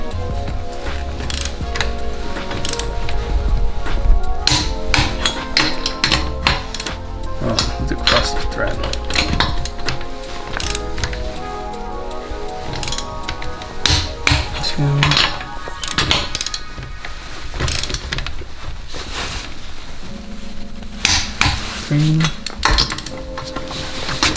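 Wheel nuts on a Toyota Corolla tightened during a tire change, a close series of metallic ratcheting clicks and clanks with scraping, under a person talking.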